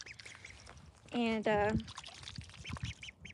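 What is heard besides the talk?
ducklings quacking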